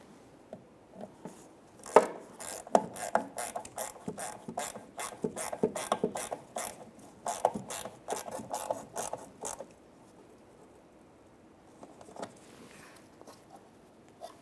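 A ratchet driving a Phillips head screw back into the tail light bracket of a 2003-2007 Honda Accord: close, crisp clicking in fast repeated bursts with short pauses, then fading to a few faint clicks.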